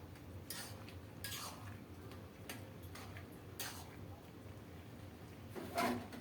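A curry of fish or vegetables is stirred in a cooking pot, giving scattered scraping and clinking strokes of a utensil against the pot over low background noise, with a louder clatter near the end.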